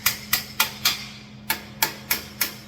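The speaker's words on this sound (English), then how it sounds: "Now I can take my handy dandy little hammer and just tap this in." A small hammer taps a metal flatbed part into place on a 2006 Ford F-250 flatbed build, striking eight or nine crisp, evenly spaced blows with a short pause midway, close and loud with no talking.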